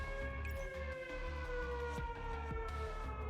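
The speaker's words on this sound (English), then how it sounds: "As the alarm screams through the air, the fire suppression system automatically activates." Fire alarm siren blaring in the video game Neural Cloud, a sustained electronic wail with slow pitch glides layered over a pulsing low synth bed, loud and unbroken.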